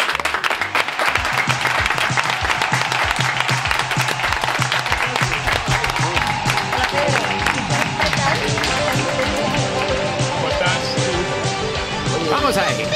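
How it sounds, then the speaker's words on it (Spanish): Studio audience at a theatre comedy radio show gives a guest a long, loud, sustained round of applause, with scattered cheers, filling the whole stretch. "Un aplauso para Pedro Ruiz."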